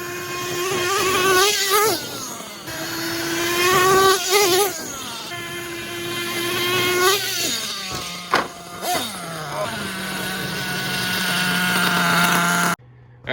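A nitro RC truck fitted with a new engine and an SH carburetor screams at high revs, its whiny buzz rising and falling through repeated throttle bursts before cutting out near the end.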